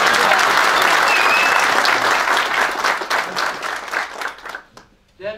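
A large audience at an event bursts into loud, dense applause that carries steadily for several seconds, then thins out and fades to near silence before a brief return at the end.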